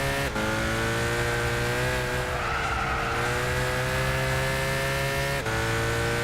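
Race car engines in Gran Turismo 6 holding a loud, steady high whine, with tonal harmonics that sweep slightly and dip briefly at two gear shifts. No talking.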